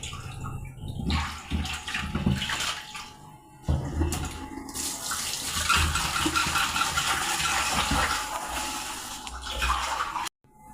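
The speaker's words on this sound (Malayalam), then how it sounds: "അപ്പം ഇതെല്ലാം ഞാൻ കഴുകിയെടുക്കട്ടെ" Kitchen tap running as ingredients for a fish curry are washed, a continuous rushing stream with splashing and handling sounds, briefly cutting out near the end.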